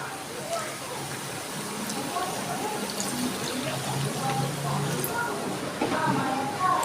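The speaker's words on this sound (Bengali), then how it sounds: "এবার আমি দিয়ে দিচ্ছি জল" Water poured into a pan of soybean curry cooked with yogurt and chili powder gives a soft, continuous splashing and trickling, fairly quiet and close, with a few brief clinks through it.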